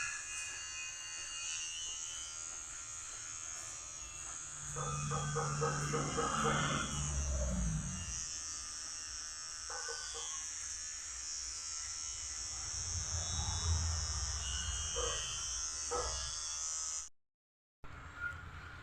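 An electric trimmer shaves a beard in a village salon, buzzing close and steady for most of the time and shifting in tone as it moves. Voices talk over it, and there is a brief dropout near the end.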